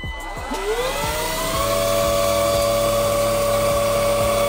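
John R vacuum cleaner with dust bucket switched on: motor whine rises quickly from startup and settles into a loud, steady running hum with a clear tonal pitch, heard close and alone.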